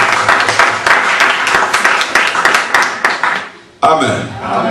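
Applause fills a church during an inauguration service, sustained clapping from a crowd that breaks off briefly before a voice begins over it.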